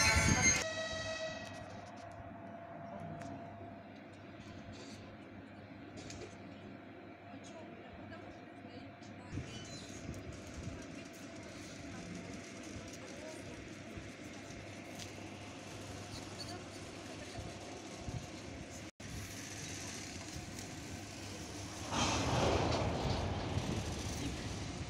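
Wagons of the ChS4-048-hauled Lysychansk–Uzhhorod passenger train roll past at Bakhmach-Passazhyrskyi station, a low continuous rumble with scattered rail clatter, growing louder and rougher near the end.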